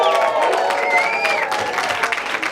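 A comedy show audience applauds and cheers, a dense, continuous wash of clapping and crowd noise that stays loud throughout.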